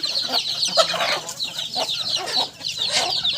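Chickens clucking in a continuous, busy chatter, with several birds close by and overlapping calls that rise and fall throughout.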